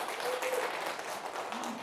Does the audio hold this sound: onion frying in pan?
no